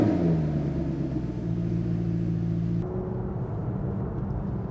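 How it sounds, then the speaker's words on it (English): A Maserati GranTurismo S V8 rumbles with a deep, throaty exhaust note as the revs rise and then fall back in a downshift, loud and close. "That downshift noise, I cannot get enough of that."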